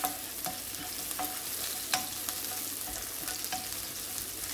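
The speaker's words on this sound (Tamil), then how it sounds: "இதை நல்லா கோல்டன் ப்ரௌனாக பொரிய விடுவோம்" Chili fries in oil left from frying prawns, a continuous close sizzle broken by several sharp stirring clicks and scrapes, with no talking.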